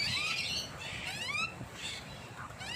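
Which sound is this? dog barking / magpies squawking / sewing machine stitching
magpies squawking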